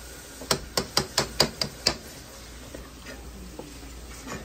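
Teriyaki chicken is stirred in a hot pan on a very high flame: a quick run of about seven sharp spatula knocks against the pan, then a softer crackle and faint scraping.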